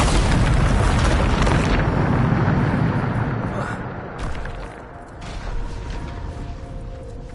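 A Bombarda spell explosion in Hogwarts Legacy, a loud, sustained blast with a rumbling roar that slowly fades and crackles over several seconds.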